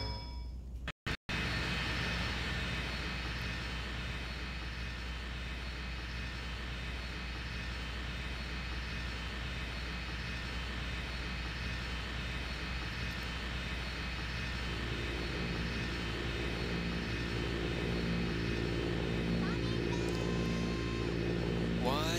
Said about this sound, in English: The egg carrier's too loud.